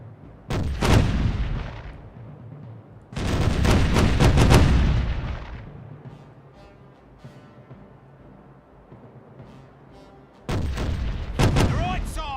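Ship cannon broadside in Caribbean Legend, a naval battle at sea: heavy booming volleys roll out in three separate salvos, each loud and rumbling before fading into ambient sea noise.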